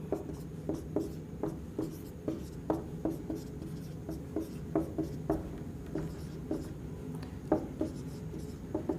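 The multiplication table of 12 is written on a board with quick, rhythmic strokes and taps, steady and close, with no talk.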